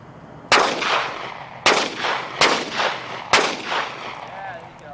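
Four sharp, loud gunshots fired at a pumpkin outdoors, spaced irregularly over a few seconds, each with a brief echoing tail.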